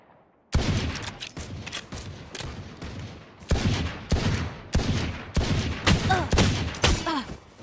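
Repeated bursts of rapid video game gunfire in Valorant, sharp and loud, firing in quick volleys with short gaps between them, with faint voices briefly underneath.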